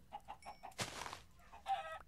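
A Minecraft chicken clucks in a few soft, quick pulses, followed by a brief broadband rustle and a last cluck, faint and alone against quiet game ambience.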